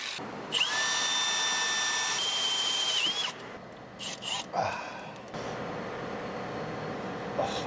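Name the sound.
drill drilling out a broken stud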